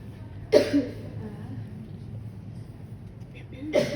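A person coughs sharply once near the start and again at the end, close and fairly loud, with a quiet room hum between the two bursts.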